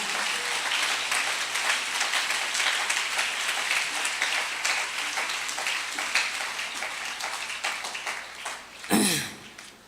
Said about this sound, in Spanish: Démosle un aplauso al Señor en esta mañana.